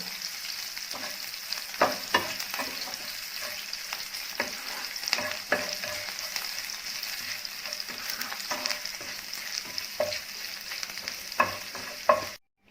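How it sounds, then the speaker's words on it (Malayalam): Curry leaves and green chillies fry in hot oil left over from frying soya chunks, a steady close sizzle with frequent stirring clatters and sharp pops throughout, ending abruptly. "നമ്മൾ സോയ ചങ്ക്സ് ഫ്രൈ ചെയ്തെടുത്ത അതേ എണ്ണയിൽ തന്നെയാണ് നമ്മൾ കറിവേപ്പിലയും പച്ചമുളകും ഫ്രൈ ചെയ്തെടുക്കുന്നത്."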